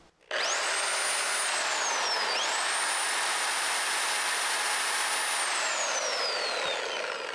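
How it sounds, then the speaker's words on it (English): A Sawzall reciprocating saw, powered by a Bluetti AC200P power station, whines at a high, steady pitch after a quick start, dips once, then runs on continuously, loud and close. "I'll try the Sawzall."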